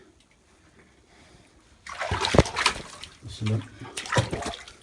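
Water flowing out of a spring on a farm, splashing and gushing loudly after a quiet start, with someone speaking over it.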